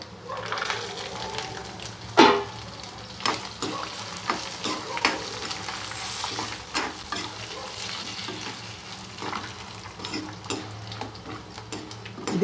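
Dried red chillies fry with a steady crackling sizzle in a pan for coconut rice, broken by repeated scraping stirs and clinks of a spoon on metal, one sharp knock near the start.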